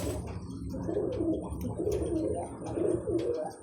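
Fancy pigeons on a farm coo steadily and close by, soft throaty calls repeating in a loose rhythm over a low background hum, with no talking.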